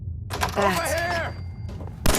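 Gunfire from Fallout 4's Nuka-World erupts in a sharp, loud burst of shots near the end, following a stretch of shouting voices and a quieter gap.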